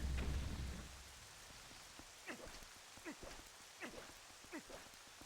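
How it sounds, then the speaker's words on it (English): Rain ambience in Zelda Twilight Princess: steady broadband patter with no music, opening with a louder low rumble that fades, then a series of brief sharp chirp-like rising tones over the rain. "The rain's majestic and all"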